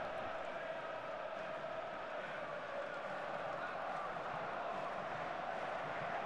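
Seattle Sounders supporters in a soccer video game cheering as a steady, distant crowd roar that holds evenly throughout with no breaks.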